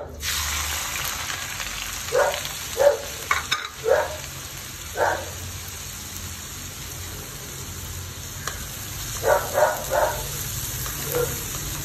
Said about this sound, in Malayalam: വെളിച്ചെണ്ണ ഒഴിച്ചിട്ടുണ്ട്. എണ്ണ ഒന്ന് ചൂടായിക്കോട്ടെ. സവാള ഇട്ട് കൊടുക്കാം.